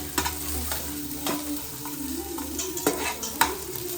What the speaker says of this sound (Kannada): ನಾನು ಕಡಿಮೆ ಎಣ್ಣೆ ಹಾಕ್ಕೊಂಡು ಒಗ್ಗರಣೆ ಮಾಡ್ತಾಯಿದ್ದೀನಿ